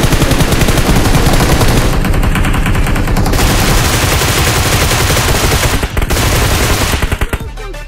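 Relentless automatic gunfire from the PUBG Mobile video game, loud and close, rapid bursts running almost continuously with brief gaps and a final scatter of shots.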